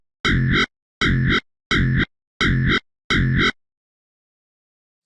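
FM bass synth patch with a vowel-like growl from Ableton Operator, five identical short buzzy notes with a gritty, formant-filtered tone in an evenly spaced pattern, then silence.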